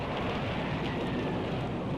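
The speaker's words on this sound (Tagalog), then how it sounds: "Ang lakas talaga ng hangin at ulan. Lumalakas na ang bagyo." Steady heavy rain roars with a broad wind-like rush, constant and dense throughout, no voices.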